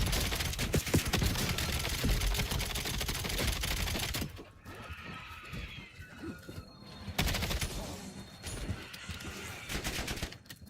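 Automatic gunfire rattles in rapid continuous bursts in Call of Duty Black Ops 7, loud and dense, breaking off briefly before resuming in further volleys.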